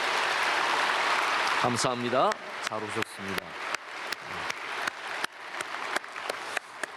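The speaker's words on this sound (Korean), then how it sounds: "우리 크게 박수로 환영하겠습니다." Applause from a church congregation welcoming newly registered members at a Sunday worship service, a dense burst that fades into lighter scattered clapping while someone speaks over it.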